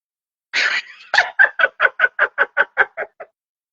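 Hens cluck in a close, clear run: one longer squawk, then about ten short, evenly spaced clucks that fade out, with no talking.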